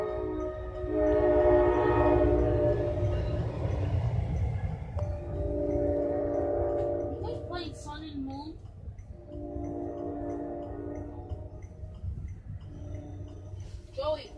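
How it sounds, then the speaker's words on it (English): A train rolls past Raritan station with a loud, sustained multi-tone horn that fades into rumbling wagons and further horn blasts, while people talk nearby. "So that means this train is coming out."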